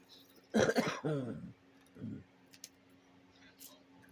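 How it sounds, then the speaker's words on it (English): A person coughs a couple of times close up, a harsh burst followed by a shorter, softer cough, then quiet room sound. "get rid of this persistent cough"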